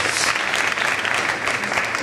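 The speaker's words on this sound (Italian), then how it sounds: "Meriterebbe un applauso, ve lo chiedo" An audience at a mayoral candidates' debate claps in dense, continuous applause that fills the whole moment without pause.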